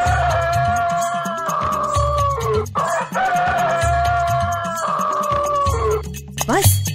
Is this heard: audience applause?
no